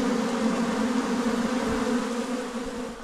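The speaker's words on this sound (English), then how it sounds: "Our bees are not very happy right now." A dense, steady droning buzz of many agitated honeybees, close and continuous, with a constant hum that never lets up.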